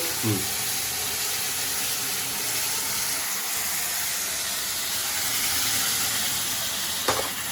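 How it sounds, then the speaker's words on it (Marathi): A jaggery and roasted semolina mixture bubbles vigorously on the stove, giving a dense, steady hissing roar with a faint clink near the end. "ज्वालामुखीसारखं खतखतते मस्त पैकी"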